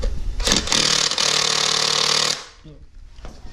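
A ratchet wrench runs on engine bolts during a Trans Am WS6 build, giving one loud, steady mechanical buzz that lasts about two seconds and then cuts off. Quieter shop noise follows.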